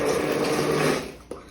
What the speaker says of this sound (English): I'll just get out the stick blender because this thing is magic.